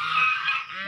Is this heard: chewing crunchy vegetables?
no